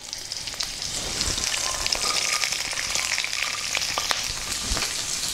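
Green chili, ginger and garlic sizzle and fry in hot oil with cumin seeds, a steady crackling hiss with occasional stirring scrapes, close and alone.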